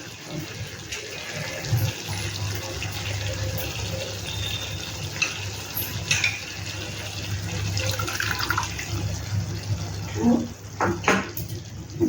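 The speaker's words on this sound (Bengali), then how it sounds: "আর দইয়ের বাটিটা দিয়ে একটু জল লাগছে," Water poured from a yogurt bowl into a pan of egg malai masala gravy makes a soft, steady liquid trickle with light clinks of the bowl against cookware, close by and moderately loud.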